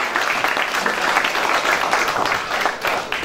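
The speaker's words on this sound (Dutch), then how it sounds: "een heel hartelijk applaus voor deze 50 jaar van Huub" A hall full of people applauds a band member of the Heilige Agatha fanfare on his 50 years with the group, a dense, even clapping that holds steady throughout.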